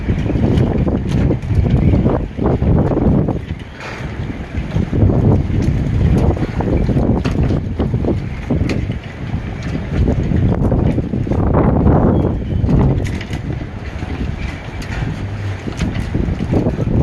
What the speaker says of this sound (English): Alright, big old diesel engines rolling in there.